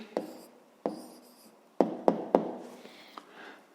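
Someone writes an answer by hand for a fifth-grade maths exercise, irregular pen taps and short scratching strokes on paper, a quick cluster in the middle, close and fairly quiet.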